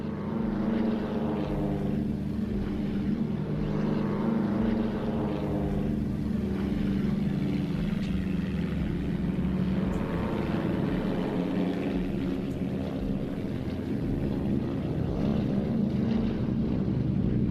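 A propeller airplane in flight over the Mediterranean Sea, a steady, loud droning engine hum with slow pulsing swells that continues without a break, heard alone with no talk.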